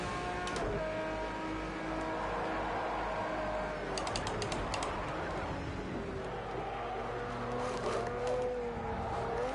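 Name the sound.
race car engine at Le Mans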